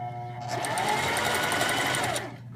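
Sewing machine stitching yarn onto loose material with the presser foot down, a close whirring motor run of about two seconds with rapid rhythmic needle ticks, starting and stopping abruptly.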